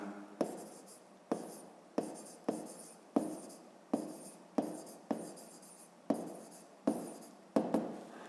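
Handwriting on paper during a fifth-grade maths exercise, made up of about a dozen quick scratchy pen strokes that follow one another in a steady rhythm, close and fairly quiet, with no voice.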